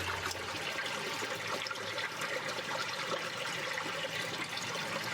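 Water in a pool boils and churns in the Unavowed video game, a steady hissing, bubbling wash that stays even and moderately quiet throughout, with no talk.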